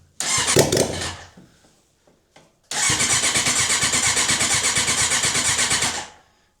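An engine cranks briefly, sputters, then catches and settles into a loud, steady rhythmic idle that runs for several seconds before cutting off abruptly.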